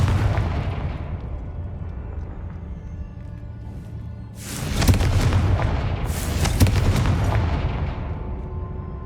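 A Confringo fire spell in Hogwarts Legacy blasts twice in a row, each a loud booming burst that crackles and rumbles off, with low ambient rumble before and between.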